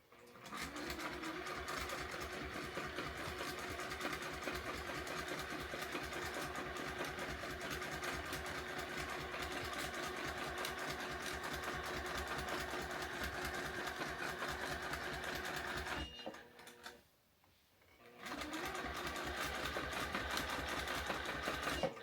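A domestic sewing machine runs steadily while free motion quilting, its fast, even mechanical stitching hum continuing for a long stretch, halting briefly near the end, then resuming.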